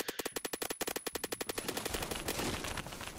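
Assault rifle fire in the Roblox game Phantom Forces: a fast, steady automatic burst of sharp, loud shots that runs on for about two seconds and then blurs into a dense, continuous clatter, with no talking.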